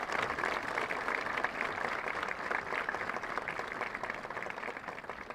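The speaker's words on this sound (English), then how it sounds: "If we could just have one more round of applause." Steady applause from a crowd at a high school graduation fills the room, a dense wash of many hands clapping at even volume throughout.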